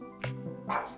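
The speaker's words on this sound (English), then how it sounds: "Mikey is barking her approval too." Mikey the dog gives two close, sharp barks about half a second apart, clear and loud against a quiet room with a faint steady hum.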